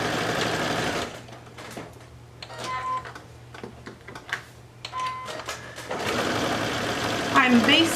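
A sewing machine bastes around a layered gift card holder in short bursts of rapid mechanical stitching, stopping and restarting, with quiet handling noise in the pauses between runs.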